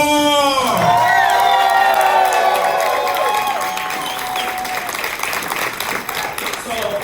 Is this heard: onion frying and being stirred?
no